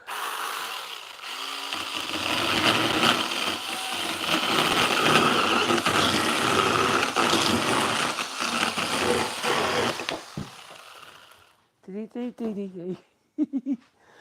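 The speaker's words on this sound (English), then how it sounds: "Let's use a chainsaw." A chainsaw cutting wood for a rustic stair gate runs loud and continuous for about ten seconds, then cuts out, followed by a few short bursts of someone talking.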